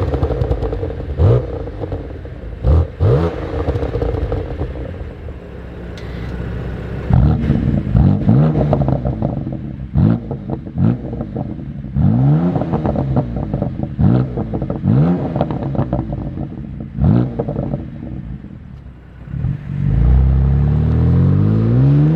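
A BMW M2 Competition fitted with a custom-built exhaust system revs repeatedly, with sharp rising blips and crackling overrun in an uneven rhythm, loud and close, ending on a sustained deep drone.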